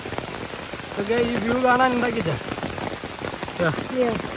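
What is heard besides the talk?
heavy rain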